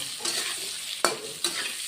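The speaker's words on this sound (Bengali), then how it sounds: "হলুদের গুঁড়ো দিয়ে দিলাম ছোটো চামচের এক চামচ দিয়ে আলুগুলি আমি ভেজে নিব" Potatoes fry with turmeric powder in a pan, a steady close sizzle broken by three sharp scraping strokes of a spatula against the metal.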